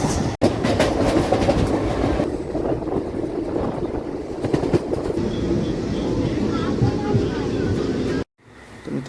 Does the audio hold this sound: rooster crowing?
no